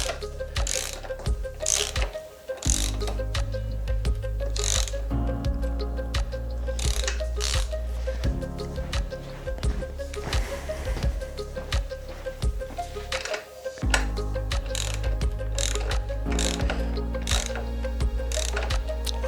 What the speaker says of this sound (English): you can go back onto the nuts at the top of the shock absorbers and then tighten them up to 29 Newton meters